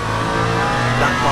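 A Ferrari race car in Le Mans Ultimate at the 24 Hours of Le Mans lifts and coasts toward pit entry, a steady loud engine drone with layered harmonic hum and a slight pitch shift near the end.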